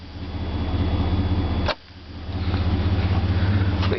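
A 2003 Chevy S10 with a 4.3 engine and Flowmaster 40 series dual exhaust idles with a close, steady, pulsing low rumble that briefly drops off partway through, then settles back to an even idle.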